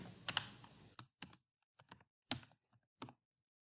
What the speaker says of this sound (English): you're going to type in a name